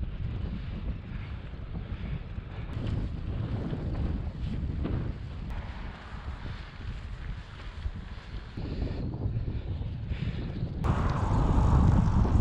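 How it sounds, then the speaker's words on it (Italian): Strong headwind at Campo Imperatore in snowy mountain country, a loud continuous roar and buffeting against the microphone that swells and gusts harder near the end, with no voices. "solito vento contrario, fortissimo"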